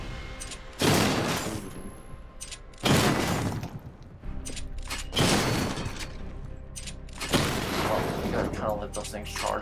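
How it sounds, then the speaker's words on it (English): Batmobile missile barrage in Batman: Arkham Knight, heard as four loud, bursting volleys spaced a couple of seconds apart, each a broad blast that decays into rumble, with talk running alongside. "Missile barrage level 2, ready."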